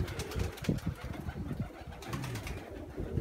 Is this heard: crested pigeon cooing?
yes